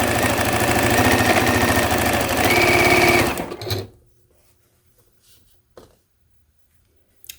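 Sewing machine joining rows of an autumn star quilt block, a loud close steady whir for about three seconds that stops abruptly, followed by near silence and a few small clicks.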